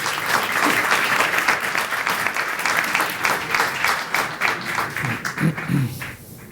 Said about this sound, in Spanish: Los recibimos entonces a todos ellos con un fuerte aplauso.